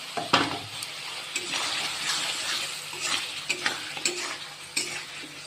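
Spice masala being fried and stirred in oil for a rohu fish curry with new potatoes: repeated spatula scrapes and clatters against the pan over a continuous loud sizzle, close up, with no talk.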